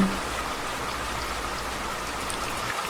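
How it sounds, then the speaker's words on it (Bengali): Steady, even rainfall patters on surfaces, a continuous hiss of drops without any break. "এদিকে বৃষ্টি থামার কোনো চিহ্ন নেই"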